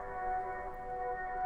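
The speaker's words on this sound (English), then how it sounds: "So then I just added some default vintage verb, brought the mix down, and a nice little bandpass" An R&B vocal sample, washed with vintage reverb and narrowed by a bandpass filter, holds as a smeared, steady chord of tones, muffled and midrange-only, with no speech.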